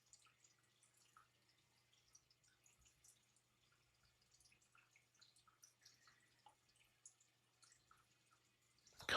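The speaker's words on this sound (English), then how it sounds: "No, I have a water fountain," An indoor water fountain drips softly in a quiet room, faint scattered droplets at uneven intervals, with a louder knock at the very end.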